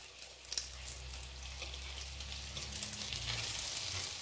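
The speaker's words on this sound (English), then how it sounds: "You want to add a steady fry, not a hard fry." Breaded summer squash fries in a pan at a steady heat, giving a continuous soft sizzle and crackle with a low background hum and no talking.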